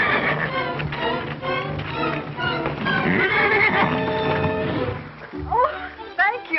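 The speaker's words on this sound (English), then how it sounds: "That horse is wild. Can't be trusted." A wild horse whinnies loudly in a classic Western ranch scene, a long shrill neigh followed by shorter snorting whinnies, mixed with voices and film soundtrack.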